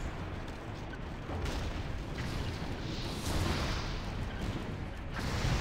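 Gunfire in a video game battle, a dense continuous barrage of shots and booms over a heavy low rumble, loud throughout with no clear pauses.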